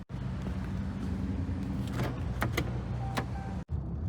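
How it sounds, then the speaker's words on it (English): Car driving on the road on the way to a casino in Arizona, a steady low engine and road rumble filling the cabin, with a couple of brief clicks and a short dropout near the end, no speech. "So I am driving on the way to the casino"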